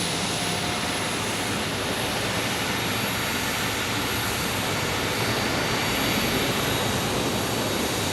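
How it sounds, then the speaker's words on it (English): A JetBlue Airbus A319 airliner at Phoenix Sky Harbor produces a steady, broad jet-engine roar with a thin high whine, holding fairly even from start to finish. "Here's our A319."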